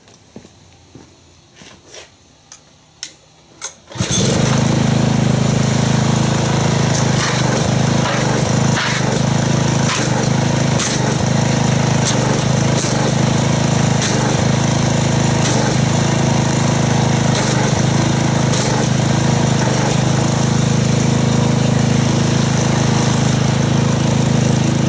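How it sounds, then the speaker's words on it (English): A pressure washer spraying car wash soap onto a car starts abruptly after a few seconds of quiet clicks and knocks, then runs as a loud, steady motor drone and hiss without pause. "Let me get the pressure washer and let's see what kind of foam we get."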